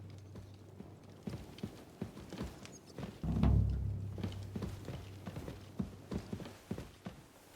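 Horse hooves clip-clopping on the ground in the medieval game Kingdom Come: Deliverance II, a steady walking rhythm of close, fairly soft hoof strikes with a heavier thud partway through and no talk.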